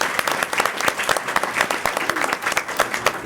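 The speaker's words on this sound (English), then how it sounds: "please join me in a round of applause for Harmony High School" Audience applause fills a school board meeting room, dense steady clapping from a crowd throughout, fairly loud and close with no talk over it.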